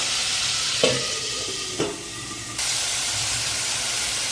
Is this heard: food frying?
yes